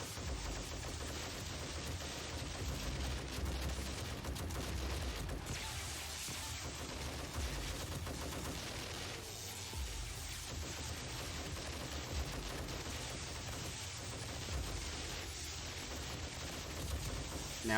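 A heavy machine gun fires in a zombie-survival game during a horde night, rapid continuous bursts layered into a dense, relentless barrage that runs on and on amid other gunfire.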